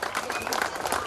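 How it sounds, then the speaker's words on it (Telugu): An audience claps at a Gandhinagar school alumni reunion, a short, dense burst of applause from a crowd mixed with overlapping voices. "అందరూ గట్టిగా చప్పట్లతో"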